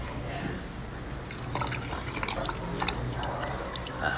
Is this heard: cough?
no